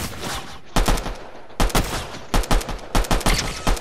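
Video game gunfire crackles close and loud in quick bursts of rapid shots, separated by brief pauses, with no talk over it.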